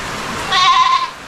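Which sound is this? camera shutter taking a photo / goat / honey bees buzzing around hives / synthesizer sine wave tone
goat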